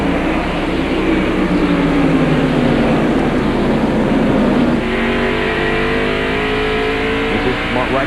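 NASCAR stock cars at North Wilkesboro in 1992 accelerate at the green flag, a loud, layered roar of engines rising in pitch as the pack passes, with a commentator talking over it.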